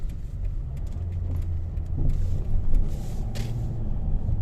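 A car driving along a main road near Paphos, Cyprus, giving a steady low engine rumble with road noise that swells briefly midway, heard up close from inside.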